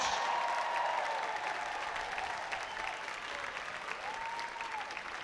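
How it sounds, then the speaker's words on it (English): Crowd applause at the Canterbury Park Indian horse relays for a two-time champion, a distant, fairly faint wash of clapping that holds steady throughout, with an announcer's voice drifting over it. "a round of applause for a 2-time champion, Tissa Dimmitt"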